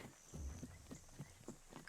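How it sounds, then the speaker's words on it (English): Horse hooves trotting in a steady clip-clop rhythm, faint and in the background, about five or six soft beats with no talk. "Why are there horses trotting in the music?"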